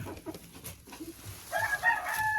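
Laying hens cluck and murmur in a backyard flock, then a rooster lets out a loud, drawn-out crow in the second half, all close by with no talking.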